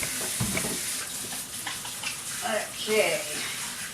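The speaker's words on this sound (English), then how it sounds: "I'm going to wash my hands here." Hands washed under a running kitchen tap while fries and burger meat are being prepared, giving a steady close hiss of water throughout with a brief spoken word near the start.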